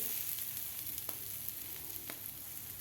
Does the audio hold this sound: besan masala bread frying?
yes